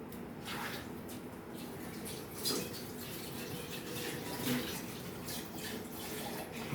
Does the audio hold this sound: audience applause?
no